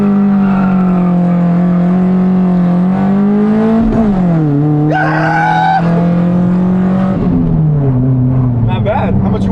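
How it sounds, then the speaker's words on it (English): Right-hand-drive non-turbo Nissan Silvia engine revving hard for a clutch-kick launch, a loud close drone whose pitch repeatedly climbs and dips, with a brief screech midway and voices mixed in. "You have to rev the shit out of it."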